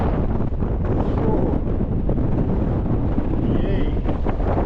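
Strong, bitter wind buffets the microphone at the exposed edge of Lonscale Crags in early winter: a loud, continuous roar with gusty surges throughout, and no other sound standing out.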